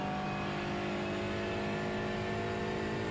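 A GT4 race car in the iRacing sim, its engine droning steadily at high revs with a constant whirring tone, loud and continuous with no pauses or talk.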